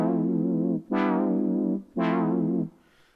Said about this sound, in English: it's got that classic early 80s, like, synth brass.